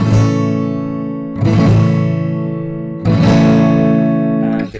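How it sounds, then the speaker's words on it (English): An acoustic guitar strummed with an open fan technique, played in fingerstyle, rings out in three bright, sustained strummed chords, each fading before the next attack, close and loud with no voice. "The next one is called open fan technique"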